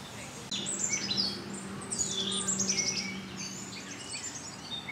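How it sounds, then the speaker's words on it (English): Birdsong along woodland paths in a botanical garden in Virginia: several birds trade bright chirps and whistled phrases at moderate distance over a low, steady ambient hum, with no talking. "It's enjoyable to walk the woodlands paths and listen to the birdsong."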